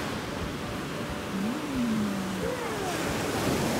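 Waves wash onto a beach as a steady, broad rushing surf that swells slightly, with a faint rising and falling whine passing over it.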